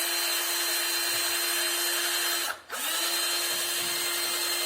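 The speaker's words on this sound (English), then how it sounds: "What I'm actually doing here is making a hole somewhere midway close to the edge." A power drill whines steadily at close range while boring into wood, briefly dipping and stopping before spinning back up to a constant high pitch.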